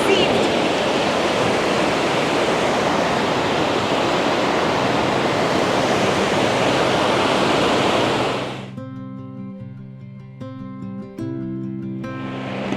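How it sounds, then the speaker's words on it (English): A raging river rushes down a mountain drainage near Lauterbrunnen in the Bernese Oberland, a loud continuous roar for most of the stretch that suddenly drops away, giving way to tonal musical notes near the end. "Who doesn't love a raging river?"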